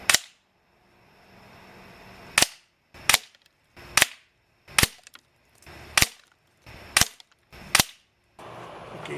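A Crosman Legacy 1000 air rifle fires at chicken silhouette targets 20 yards away: eight sharp, loud cracks spaced a second or so apart, each followed by a short quiet gap, with no voices.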